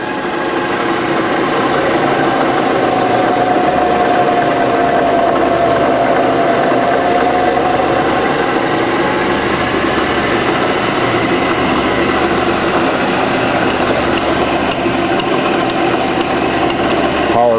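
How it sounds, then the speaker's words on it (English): A JET vertical milling machine runs with its spindle in forward and reverse, giving a steady, loud mechanical hum and whine with a faint rising-then-falling tone, continuous and close by. "I will go ahead and start this and let you listen to the machine"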